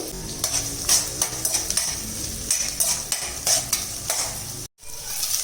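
Small onions frying in a little hot oil in a pan for noodles, a loud close sizzle with repeated spatula scrapes and stirring knocks, briefly cut off near the end.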